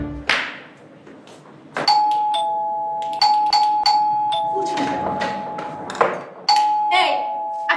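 A doorbell rings loudly several times with repeated electronic chime tones, and voices are heard between the rings.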